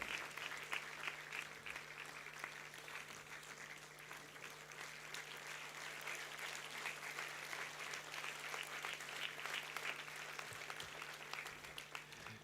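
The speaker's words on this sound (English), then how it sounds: "We need a continuous round of applause." A continuous round of applause rolls through a university convocation hall at NSBM, even and sustained for several seconds, a distant crowd clapping with no voices on top.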